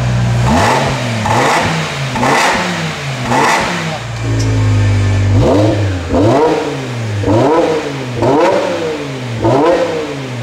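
A car engine with its stock exhaust revs hard again and again, each loud rise and fall of the note blowing out through the pipes close by, with no talking.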